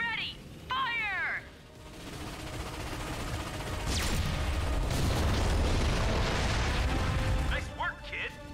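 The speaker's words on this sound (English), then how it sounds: "Starwatch ion. Cannons ready!" A Starwatch ion cannon fires in the video game Ratchet and Clank (2016), a long rumbling blast with booming explosive bursts and mechanical whines, preceded by brief sci-fi chirps, with game voices around it.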